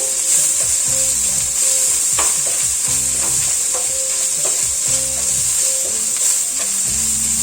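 Scrambled egg being stirred into masala frying in a pan, a steady loud sizzle with repeated scraping spatula strokes throughout, no voices.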